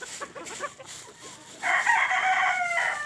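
Chickens on a poultry farm cluck in short, scattered bursts while eating chopped vegetables, then a loud, drawn-out crowing call rises and holds for the last second and a half.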